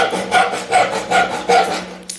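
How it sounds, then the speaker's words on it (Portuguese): A handsaw cuts through wood with steady, rhythmic rasping strokes, about four back-and-forth passes, close and loud, with no talking. "você não força o serrote contra a madeira"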